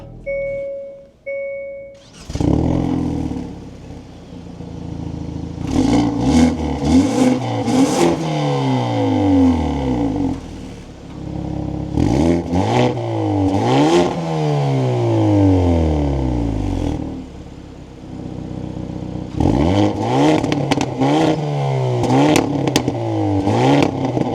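A 2025 Hyundai Elantra N sedan with a dual-clutch transmission starts up close by, its engine catching with a loud burst and then settling into a steady idle. Several sharp revs follow, each climbing and falling back, with crackles on the overrun.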